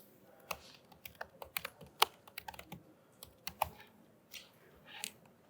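Rapid, uneven keystrokes on a computer keyboard while a name is typed in, close and fairly quiet, with bursts of clicks separated by short pauses and no talking.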